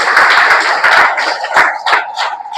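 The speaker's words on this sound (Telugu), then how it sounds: "కొట్టు గట్టిగా చప్పట్లు." A church congregation claps loudly together, a dense rapid burst of many hands that keeps going for a couple of seconds and thins toward the end.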